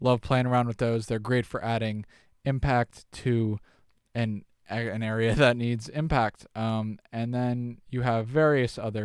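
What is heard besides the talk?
No everyday noise stands out behind the speech.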